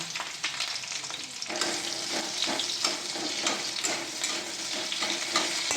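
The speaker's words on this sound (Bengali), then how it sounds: "2টো পেঁয়াজ, এগুলো তেলের উপর দিয়ে দিচ্ছি" Two large-cut onions sizzle and crackle in a little oil in a wok, a steady, close frying hiss with small popping bursts throughout and no voices.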